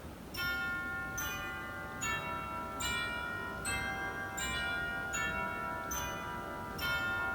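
Chimes stop on a 1919 Wurlitzer pipe organ sounding a slow sequence of about nine deep, bell-like tubular strikes, each ringing on with rich overtones into the next, moderately loud with no speech.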